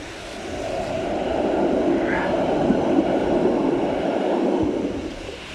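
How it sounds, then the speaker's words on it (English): A tram approaches along a Helsinki street in winter, its low rolling rumble swelling and then easing, fairly loud against the city background. "Oops, streetcar coming."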